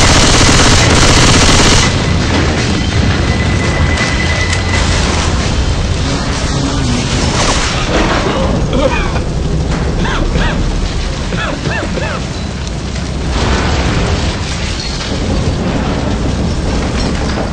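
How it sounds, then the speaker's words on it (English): A pipe bomb in Left 4 Dead 2 goes off amid dense, continuous gunfire and booming game noise, loud and close throughout with no break, with in-game voices in the mix. "Throwing a pipe bomb!"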